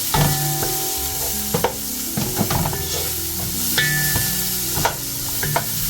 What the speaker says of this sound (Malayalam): ചോപ്പ് ചെയ്തിരിക്കുന്ന ഓനിയൻ ചേർക്കുവാണ്.